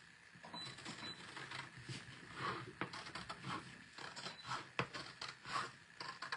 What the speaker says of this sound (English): I'm going to just take my scissors and cut along this line